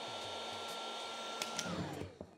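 A Makita DHG181 cordless heat gun runs steadily with a constant whooshing airflow hum and a faint whine, holding an even level throughout before a brief shift near the end.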